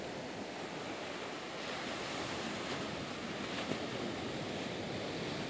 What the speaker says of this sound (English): Here comes a wave.